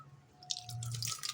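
Water drips and trickles as washed sabudana (sago pearls) drains, a few close, faint splashy drops over a quiet kitchen background.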